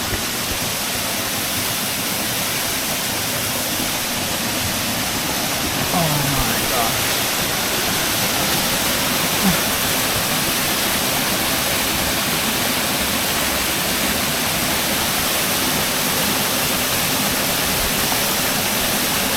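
Powerscourt Waterfall in Ireland roars with a dense, steady hiss of rushing water, loud and unbroken throughout, with no clear speech over it.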